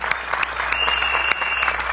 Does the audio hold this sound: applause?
yes